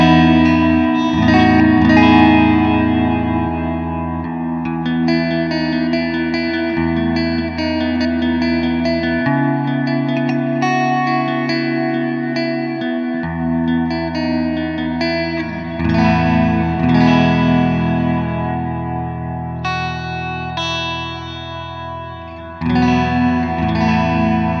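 Electric guitar runs through a Strymon Timeline delay pedal on its wet setting, with sustained chords trailing long echoing repeats and a wash of reverb, loud and continuous with no talking.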